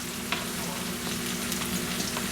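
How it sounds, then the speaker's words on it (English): Half an onion sautés in a teaspoon of melted butter, a continuous close sizzle with small crackles and stirring scrapes running throughout, no voices. "Throw this onion into the melted butter, and I'm going to saute it until translucent."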